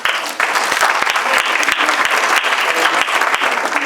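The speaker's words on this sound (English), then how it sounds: "Give yourselves a round of applause." A symposium audience breaks into applause after a short quiet start, with dense clapping from a crowd that holds steady and loud.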